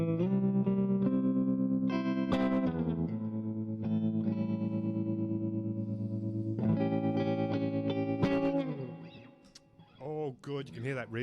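Electric guitar through an Orange 35RT amp with tremolo plays sustained chords with a slight pulsing wobble, loud and close, before fading into softer picked notes near the end.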